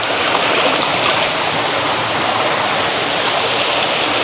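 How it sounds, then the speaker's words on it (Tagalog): A hidden waterfall at a Baler resort sends down a steady, dense roar of rushing water, loud and close, holding constant with no pauses and no one talking over it. "Grabe, yun yung falls no."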